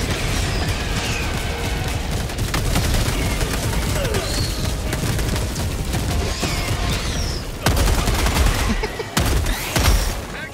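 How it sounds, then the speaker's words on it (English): Sustained Gatling barrage gunfire in Helldivers 2, a dense continuous roar of rapid shots and explosions throughout, with heavier bursts near the end. "Watch out, that Gatling barrage might hit us."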